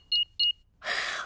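Two short electronic beeps in quick succession from a cartoon house alarm being switched, then a burst of broadband noise like a chirp or rustle.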